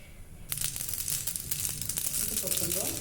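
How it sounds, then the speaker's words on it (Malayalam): Mustard seeds drop into hot oil and burst into a steady, close crackling and spluttering that fills the pan after a quiet moment, with no one speaking. "കടുക് ഇടുക."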